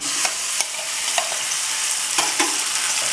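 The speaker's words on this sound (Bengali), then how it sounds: "কড়াই গরম হয়ে গেছে। এবার আলুটা দেখুন ছানা দিয়ে একটু মেখে নিয়েছি, মিষ্টি আলু দিয়ে দিলাম।" Sweet potato mashed with chhena sizzles steadily in a hot kadai with ghee, a continuous close fry broken by several soft scraping stirs.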